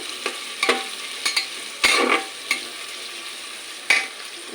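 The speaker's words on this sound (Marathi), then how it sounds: "कांदे लाल झाले ते घडी परतवायचे आहेत।" Onions browning in a pan for khichdi, with a steady soft sizzle broken by several sharp scraping stirs of a spoon against the pan, close and fairly quiet.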